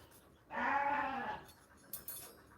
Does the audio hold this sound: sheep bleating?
yes